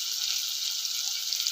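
Potatoes frying in a pan make a soft, even hiss that holds steady for a moment, with no talk over it.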